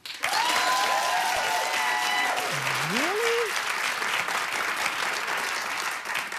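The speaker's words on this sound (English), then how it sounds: "Clap if you're with me." Loud, sustained audience applause on a daytime talk show, running for several seconds with brief speaking voices layered over the start.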